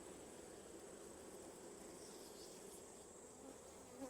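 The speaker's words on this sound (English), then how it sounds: "This little bee don't like me." Bees buzz in a steady, soft drone around an open beehive during a hive inspection, a faint continuous hum of many insects with no talking.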